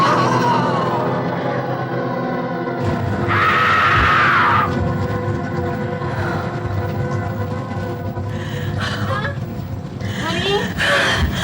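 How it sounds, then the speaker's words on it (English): A woman screams from a bad dream in a 1990 slasher horror film. A loud, high, sustained scream lasts about a second, and strained vocal groans and gasps follow over a low background rumble. "I heard you screaming next door."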